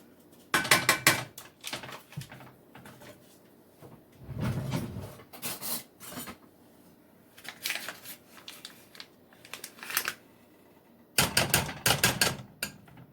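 A hand-held potato masher works through boiled potatoes for Irish colcannon, giving bursts of close, rhythmic squelching thuds and scraping clatter against the pot, separated by short pauses.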